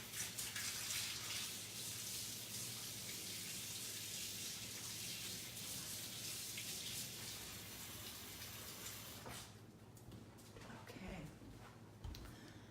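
Water runs from a sink tap as a stencil is rinsed underneath, a steady close splashing rush that thins out near the end with a few scattered drips and handling sounds.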